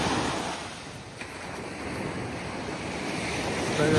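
Small sea waves break on a beach in a steady, soft wash of surf with wind noise, continuous and fairly even throughout.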